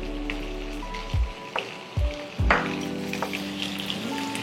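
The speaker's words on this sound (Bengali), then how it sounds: "এবার পেঁয়াজটা ভালো করে ভাজতে হবে, বাদামি করে।" Washed onions fry until brown in a pan for masoor dal, a soft steady hiss with a few stirring knocks beneath sustained tonal background sound.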